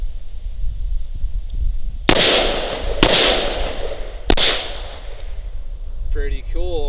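Three sharp, loud shots from a Smith & Wesson 66 Combat Magnum revolver firing different ammunition, evenly spaced about a second apart, each ringing out with a brief echo before a voice starts speaking.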